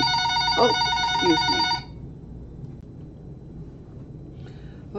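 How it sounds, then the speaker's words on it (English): A mobile phone rings with a loud, steady electronic tone for almost two seconds, then quiet room noise follows before the ring briefly starts again; a voice speaks a few words early on. "That was my phone ringing."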